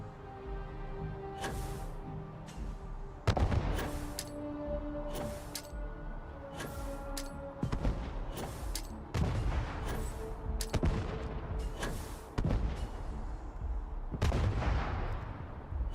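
Repeated shrapnel grenade blasts and gunfire in the space game Starfield, sharp loud bursts landing every second or so over a steady low rumble, with heavier booms scattered through.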